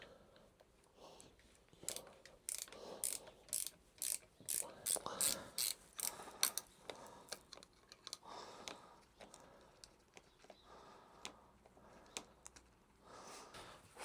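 A flathead screwdriver working the brake lever locking nut on a KTM 390 motorcycle: a quick series of crisp metallic ratcheting clicks and ticks in bursts, close and quiet, with pauses between.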